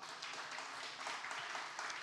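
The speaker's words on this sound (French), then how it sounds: "Applaudissez le Seigneur pour ça." A church congregation applauding, a steady wash of many hands clapping together at moderate distance, sustained throughout with no speech over it.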